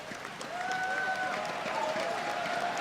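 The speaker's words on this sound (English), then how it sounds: "You can hear the North American crowds getting behind both of these European teams." A North American esports arena crowd at a Rocket League winners final, a broad, sustained roar of cheering and applause from a large audience, with a voice talking over it.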